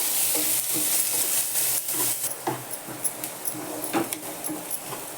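Chopped onions fry in a pan for a Malabar spinach curry, a steady close sizzle broken by irregular scrapes and taps of the spoon stirring them.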